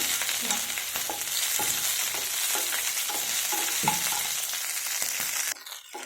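Brinjal and small cucumber pieces frying in oil, a close, steady hiss and sizzle punctuated by repeated scraping stirs of a spatula, before the sound cuts off abruptly near the end.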